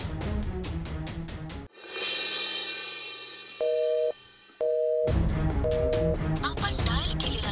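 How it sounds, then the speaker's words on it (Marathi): A telephone busy signal: regular beeping tones that pause, then come back as two longer beeps, with talk before and after. "आपण डायल केलेला नंबर सध्या व्यस्त आहे"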